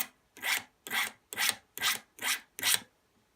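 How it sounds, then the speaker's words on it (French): A small file rasps against the back of an enamelled copper piece to remove burrs, giving six even, close-up strokes in a steady rhythm with brief silences between them. "On se remet là, on prend une petite lime."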